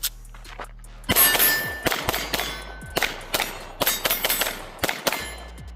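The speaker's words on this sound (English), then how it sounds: "Let's do a few more shots. Let's see if we can shoot it kind of fast." A Sig P365 FUSE pistol fires rapid shots at steel targets outdoors, each one giving a sharp metallic clang and ding. The strikes come in a quick irregular series, loud and close.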